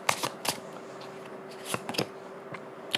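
Tarot cards being shuffled by hand, with a run of crisp riffling flicks and soft slaps in uneven bursts, close and fairly quiet, with no talking.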